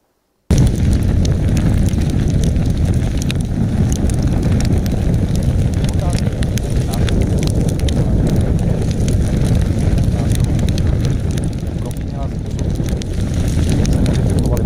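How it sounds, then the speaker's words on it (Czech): A crackling campfire burns steadily and loudly, its dense bed of crackle scattered with sharp pops and snaps that continue without a break. "Pojďme si sednout k ohni a krátce se nad tím zamyslet."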